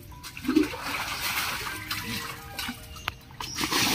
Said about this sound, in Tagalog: Daming tubig.